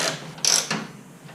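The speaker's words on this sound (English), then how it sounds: "I'm just going to use my wrench so I can control how much I feel it tightening" A wrench tightens the hold-down on a Fimco 40 gallon sprayer tank, making a few close, quick metallic ratcheting clicks with one louder burst in the middle, with no speech.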